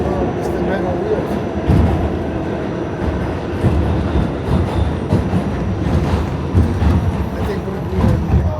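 A New York City subway train on metal wheels rumbles loudly and steadily, with intermittent clacks and rattles rising and falling across the ride.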